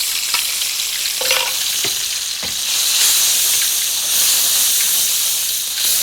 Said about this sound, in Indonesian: Ya, kita tumis tidak terlalu matang ya.